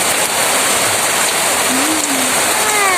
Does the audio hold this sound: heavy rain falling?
yes